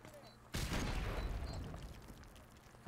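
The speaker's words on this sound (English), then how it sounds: "Fucking rocket launcher." A loud rocket launcher explosion in Modern Warfare Remastered erupts as one sudden heavy boom, then rolls off into a long rumbling decay. Faint game ambience sits underneath before the blast.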